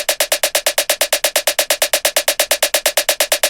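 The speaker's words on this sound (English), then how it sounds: "this is a hip-hop snare. It just sounds like this on its own" A hip-hop snare drum sample from electronic music production, heard alone and struck in a fast, steady repeating run of about thirty crisp, bright hits with sharp attacks and quick decays.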